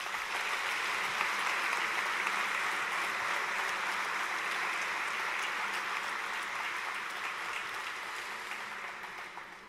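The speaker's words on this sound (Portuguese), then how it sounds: "peço uma grande salva de palmas" Large audience at a sports gala in Ponta Delgada applauding, a dense, continuous wash of clapping that holds steady for several seconds and tapers gently at the end.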